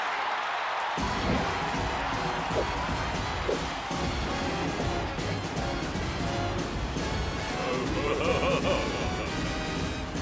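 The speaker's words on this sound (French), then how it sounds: "veuillez réserver un tonnerre d'applaudissements pour les danseurs du Buddy Watkins Buckingham Palace" A cartoon audience roars with cheering and applause for dancers at the Buddy Watkins Buckingham Palace in Las Vegas, a dense, continuous crowd wash that swells in suddenly after a quiet second and holds.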